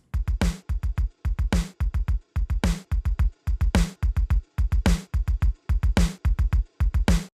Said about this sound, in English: I pulled out my old Linn drum and played a riff that was very 80s